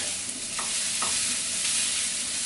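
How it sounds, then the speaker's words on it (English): Onions, ginger, garlic and jalapeno pepper frying in a pan for curry chicken wings: a bright, steady sizzle close up with a couple of soft stirring scrapes, no voices. "I add the onions, ginger, garlic, jalapeno pepper. I'm gonna cook until the onions are a little bit translucent."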